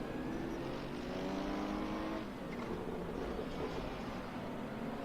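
A Ferrari 488 GT3 drones steadily as it overtakes an AMG at Circuit Paul Ricard in Assetto Corsa, its engine a continuous muffled whine with shifting pitch, fairly quiet and without any speech.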